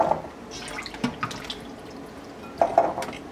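Water splashes and trickles in a sink as mushrooms are washed, with short bursts of rinsing and dripping, close by, no one talking.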